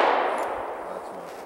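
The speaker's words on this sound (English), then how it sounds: "So you can see I can shoot this pretty well" A Springfield XD(M) Compact .45 ACP pistol fires at a range. One loud report has a bright, clanging ring that fades away steadily.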